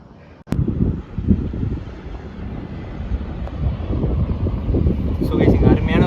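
Strong wind buffets the microphone at a foggy hilltop viewpoint near Sholinghur, a loud continuous low rumble with gusts, and a voice speaks over it.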